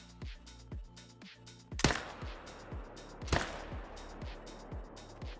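Two sharp, loud hunting rifle cracks in the game Call of the Wild, spaced about a second and a half apart, over a steady rhythm of soft low thumps.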